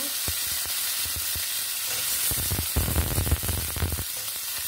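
Potato pieces frying in oil in a wok, a steady sizzle broken by a spatula scraping and stirring, with a louder burst of crackling and clatter near the end.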